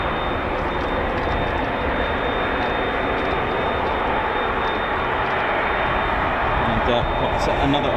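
Aircraft arriving at RAF Fairford for the Royal International Air Tattoo air show: a loud, steady engine roar fills the whole stretch without let-up, with a voice faintly present beneath it.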